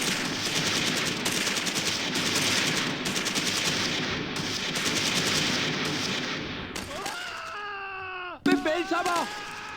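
Sustained machine-gun fire and rifle shots crackle from a group leader's squad in the Close Combat 3 Russian Front war game, dense and continuous, then cut off into tonal game effects and a short burst near the end.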